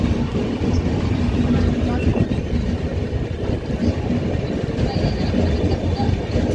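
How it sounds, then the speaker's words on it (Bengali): The 12303 Poorva Express pulls out of Chittaranjan station on the Howrah to Jasidih route, a steady close rumble of wheels and rolling carriages with faint clickety-clack and squeals throughout. "চিত্তরঞ্জন থেকে ট্রেনটা ছেড়ে দিল।"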